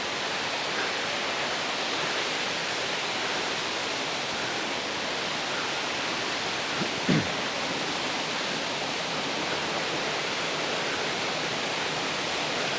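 Waterfall on Monk's Trail in Chiang Mai, a constant rushing roar of falling water, broad and steady throughout with one brief knock midway and no voices.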